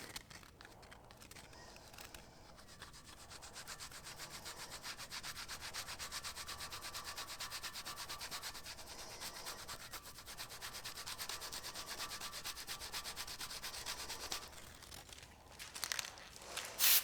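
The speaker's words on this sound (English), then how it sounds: "I'm going to attempt to lightly sand them out and then apply another coat" Hand sanding of painted sliders for an SUV, a steady dry rubbing scrape repeated in quick back-and-forth strokes, close and continuous for most of the stretch.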